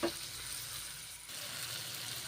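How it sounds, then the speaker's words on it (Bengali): Red lentils fry with spices in a pan, a steady close sizzle and hiss that runs evenly throughout after a brief soft knock at the start, with no talk. "এখন ভেজে নিচ্ছি মুসুরির ডাল দিয়েছি এবং আবার ভেজে নিচ্ছি"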